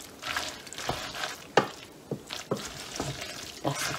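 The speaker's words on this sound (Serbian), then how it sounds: "Isto promiješamo." Truffle pasta sauce is stirred in a hot pan, a spoon scraping in repeated strokes over a soft sizzle, each pass a brief wet swish at close range.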